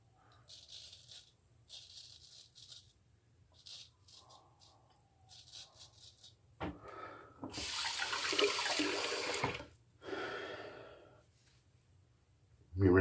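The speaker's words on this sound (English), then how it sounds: "Let me rinse off once more." A bathroom tap runs into a sink while someone rinses after a shave, with brief splashy bursts at first, then a louder sustained flow near the end, close by with no talk.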